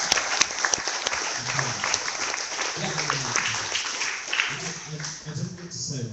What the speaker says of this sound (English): A big applause for our three panelists.